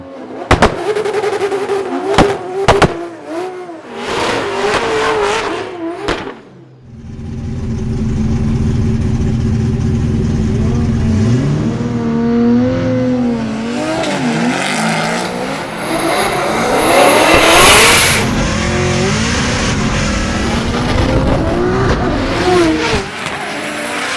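A Formula Drift car at a skills battle, its engine revving in sharp bursts before launching into a long, loud, sustained roar that rises and varies in pitch as it pulls away.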